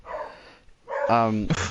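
A dog in a room gives a short yip and a whimpering bark, close and fairly loud, with a person talking around it.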